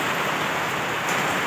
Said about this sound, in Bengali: এখানে বৃষ্টি দেখা দিল